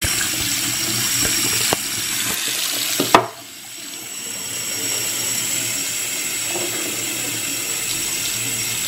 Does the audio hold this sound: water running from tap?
yes